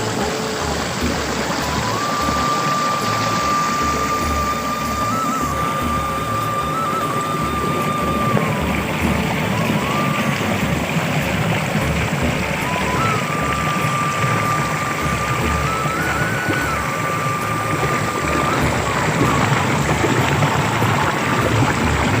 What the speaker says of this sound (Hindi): ये हमारा ट्रैक्टर लगा हुआ है और ये ट्यूबवेल चल रहा है माशाल्लाह से